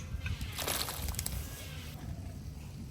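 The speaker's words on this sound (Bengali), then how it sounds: "এবার আলুটা প্রথম দিয়ে দিচ্ছি, জলটা এদিকে গরম হয়ে গেছে" Potatoes drop into a pot of hot water with a close, loud slosh and splash early on, followed by gurgling and watery stirring that fades slightly toward the end.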